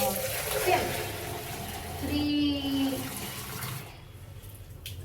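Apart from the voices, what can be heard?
water poured by mug into bucket for dyeing jeans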